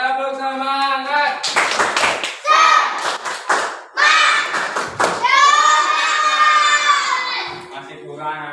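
Children in a classroom clap together in short rhythmic bursts between stretches of a teacher's sung or chanted voice and kids' voices, the claps loud and near.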